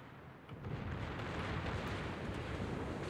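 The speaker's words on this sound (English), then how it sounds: "Ah, that was a 30k salvo." A naval gun salvo striking a ship in World of Warships, a dense, sustained roaring blast that swells after a moment and rumbles on loudly without letup.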